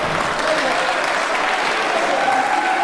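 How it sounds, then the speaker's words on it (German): Fans at a live wrestling show applaud steadily throughout, a dense, even wash of clapping that holds at a constant loud level from start to finish. "Ja, da gibt es schon Applaus von den Fans."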